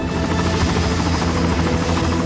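Bell JetRanger executive helicopter readying for flight, its rotor beating as a steady, loud, dense whine and thrum with no pause and no one talking.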